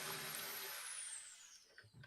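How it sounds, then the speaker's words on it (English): A power drill whines steadily inside a house, fairly faint and continuous, tapering off toward the end with a few small knocks. "Can you guys hear the drilling in my house?"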